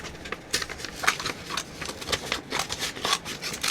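Pointy scissors snip through a paper junk mail envelope in a quick run of small crisp cuts, close and fairly quiet, with rustling paper between snips.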